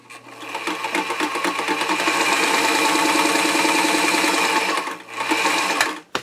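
A Singer 237 sewing machine's motor spins up and runs loudly with a fast rhythmic mechanical chatter, briefly slows around the five-second mark, then surges again before stopping. It sounds somewhat noisy, close up and alone.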